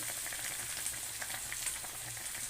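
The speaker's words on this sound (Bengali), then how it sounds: "ঝোলটা দেখো কত সুন্দর ফুটছে" Fish curry with raw banana and bata fish bubbling in a pan, a steady close hiss and simmer that runs continuously with no talk over it.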